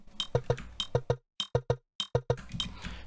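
Dry granular foley percussion loops in Ableton Live with effects switched off, a sparse pattern of short, clinky, glassy hits with brief silent gaps between them, fairly quiet.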